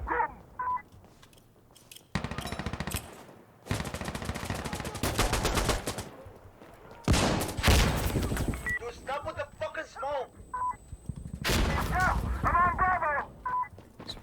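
Gunfire in the tactical shooter Insurgency: Sandstorm, with a drum-fed automatic weapon firing long, loud sustained bursts broken by short pauses, partly alone and partly under a talking player.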